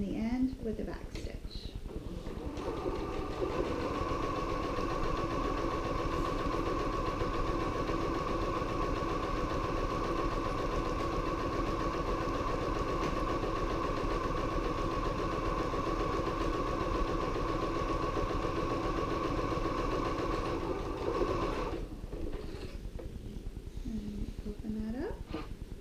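A sewing machine runs in one long, steady, mechanical hum while stitching down the long end of patchwork fabric pieces for a mini binder cover, starting and stopping with brief back-stitch pauses, loud and close.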